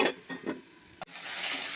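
Sliced potatoes and okra frying in a pan for a simple okra chorchori, a few short stirring scrapes followed by a sharp knock and then a steady hissing sizzle, no talking.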